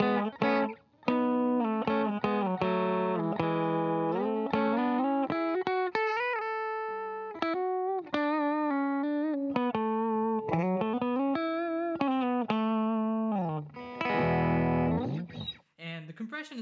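Electric guitar played through a compression pedal into an amp, with a tightened, sustained lead line of single notes and bends, close and loud with steady level throughout.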